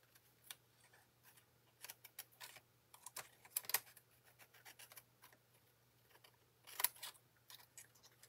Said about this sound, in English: Just trimming that edge.